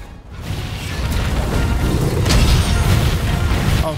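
Explosions in Monster Hunter: World Iceborne while farming Dragonvein Coal chunks, a sustained loud booming, crackling blast with rumbling debris that swells and holds for several seconds, with no voice over it.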